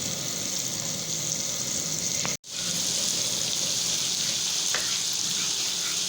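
Garlic paste sizzles and fries in a pan for a cheese garlic sauce, a steady close crackling hiss with faint stirring, cut by one brief silent gap midway.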